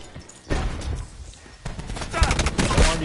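Gunfire in the shooter Black Ops 4: bursts of rapid, loud shots with thumping impacts, coming in two clusters separated by a brief lull.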